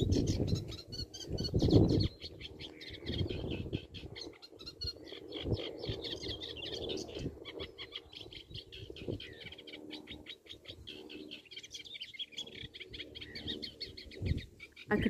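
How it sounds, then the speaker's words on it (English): A reed warbler sings quick, scratchy chattering phrases in the distance, repeated over a soft low background rumble. "I could focus my mind on the song of this reed warbler."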